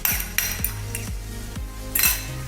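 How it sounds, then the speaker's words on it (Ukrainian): Eggs being whisked in a bowl for a meat roll, heard as a fast run of metallic clinks and taps of a utensil against the bowl, close and fairly loud. "яйця трошки зб'ємо. Перемішаємо їх."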